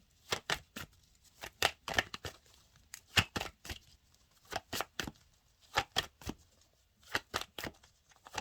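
Tarot cards being shuffled in close, crisp bursts of riffling and slapping, each lasting a fraction of a second, repeating in irregular clusters with short quiet gaps between them and no talking.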